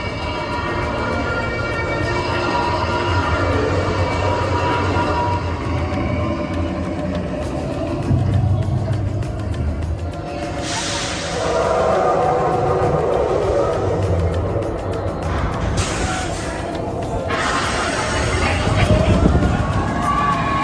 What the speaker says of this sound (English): And while Expedition Everest doesn't go upside down, somewhere in this ride is a giant angry Yeti that is responsible for a major thrill.